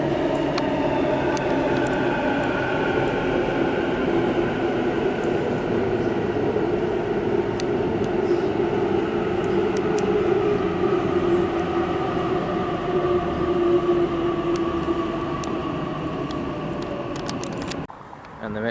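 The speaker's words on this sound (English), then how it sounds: "it looks like we've got a Waratah arriving for a Linfield service." A Sydney Waratah B set train pulls into Chatswood station. Its loud, continuous motor whine shifts in pitch as it approaches along the platform, with rumbling wheels beneath, before it cuts off abruptly at the end.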